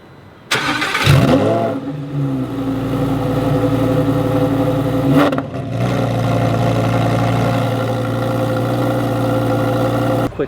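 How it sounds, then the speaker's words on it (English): A 2021 Lamborghini Huracan Evo fires up loudly with a sharp startup bark, then settles into a steady, rumbling idle close by, with a brief blip partway through. "Now let's end the video with some startups and some revs."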